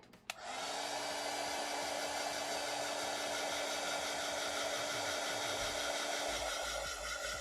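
A hair dryer runs steadily on paint, switching on abruptly and holding a loud, even whirring roar with a constant tone for several seconds.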